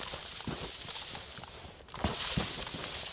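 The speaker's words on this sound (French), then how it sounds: "C'est toi tous les bruits de pas là." Footsteps of a player character moving through a wooded survival game area with zombies, a steady series of soft thuds over a constant noisy outdoor ambience.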